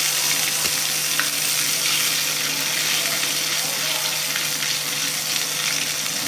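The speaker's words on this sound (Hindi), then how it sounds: "मैंने साथ में बटर और असली घी दोनों ले लिया है। और इसे मैं तड़के के लिए रेडी कर रही हूँ।" Butter and desi ghee sizzle steadily in a pan while melting for a tadka, a continuous, even frying hiss with faint crackles throughout and no talking.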